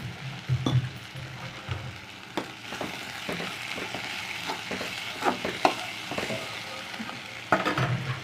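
Curry leaves fry for an anchovy dry fish fry, a close, crackling sizzle broken by repeated scraping stirs and a few sharp metallic clinks of the spoon against the pan.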